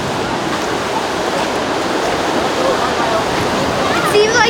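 A Yosemite waterfall roars as a loud, steady broadband wash of falling water, constant and close throughout, with faint voices beneath it.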